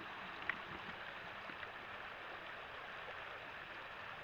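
Shallow rushing water in an abandoned runoff stream makes a steady, close broadband wash with no talking.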